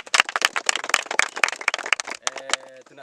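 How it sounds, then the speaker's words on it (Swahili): A gathering applauds an honourable guest with a burst of sharp, uneven hand claps that thins out near the end as a voice carries on underneath. "Tumpigie makofi."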